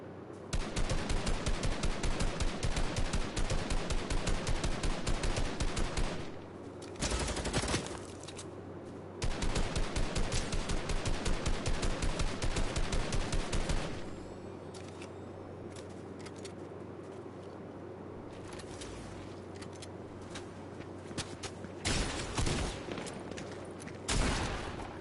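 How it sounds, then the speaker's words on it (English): Video game gunfire in Fortnite: dense automatic bursts of shooting fill the first several seconds, pause, return in another sustained volley, then thin to scattered shots and game noise. "I think there's another team shooting anyway"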